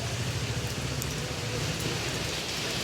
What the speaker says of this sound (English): So guys, it is actually raining